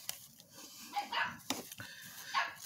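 Small dog barking indoors, a few sharp yips and barks scattered irregularly, moderately close against a quiet room.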